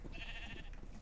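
A sheep in a video game gives a single soft, wavering bleat over faint background game noise, with no talking.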